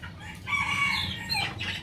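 Chickens on a farm cluck and a rooster crows close by, with overlapping calls rising and falling over a low background murmur of other fowl.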